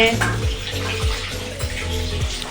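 Chicken frying in a pan gives a steady close hiss and sizzle, broken by a few soft low clunks of stirring.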